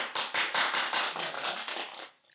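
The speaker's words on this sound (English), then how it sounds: "So I call it clap and rub. So we're going to make some noise. We're going to clap." Several people clap their hands together in a brisk, dense burst of claps lasting about two seconds at a Reiki session, then it stops abruptly, with no voices over it.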